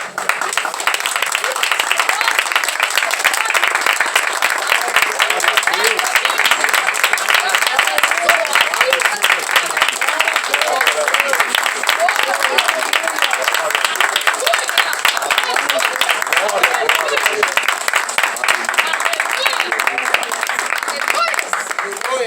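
Church congregation at an outdoor preaching point clapping rhythmically and shouting praise, a loud dense wash of hands and voices that carries on steadily throughout.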